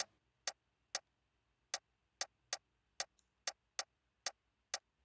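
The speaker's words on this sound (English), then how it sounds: "So we have this hi-hat or rim shot." Sharp, dry clicks ring out alone in a sparse, slightly uneven pattern, roughly ten hits over a few seconds, quiet and close.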